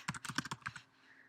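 Quick burst of typing on a computer keyboard, about ten crisp close key clicks in under a second, then quiet room tone.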